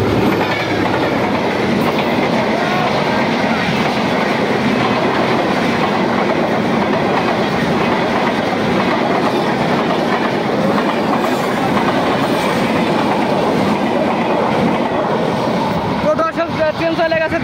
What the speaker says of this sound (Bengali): তো দর্শক দেখতে পাচ্ছেন ট্রেন কিন্তু অলরেডি চলে আসছে।